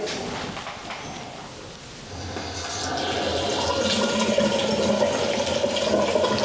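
Steady running water from a newly installed faucet splashing into a sink drain, faint at first and then swelling into a constant rushing flow that continues to the end.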